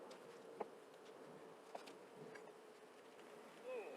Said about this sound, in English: Lots of girls working this side.